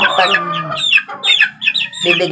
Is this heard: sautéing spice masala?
no